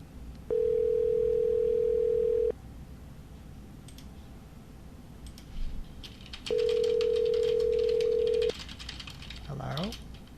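Two long, steady ringback tones about four seconds apart, each lasting two seconds, with faint background noise and a brief chirp near the end.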